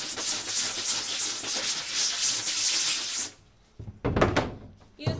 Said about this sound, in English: you're going to rub it into the area where the ink is